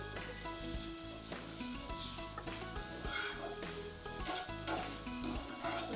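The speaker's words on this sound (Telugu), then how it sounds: "కొంచెం క్యారెట్ ఫ్రై అవ్వడానికి టైం పడుతుంది కదా?" Grated carrots and dates fry in a pan for carrot-date halwa, giving a steady close sizzle with soft stirring scrapes throughout and no voices.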